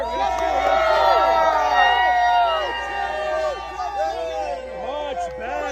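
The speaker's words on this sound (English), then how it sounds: "You gotta cheer." A crowd at a Trump political rally cheers and shouts loudly, with a dense mix of excited voices and whoops that fade slightly as scattered chatter continues throughout.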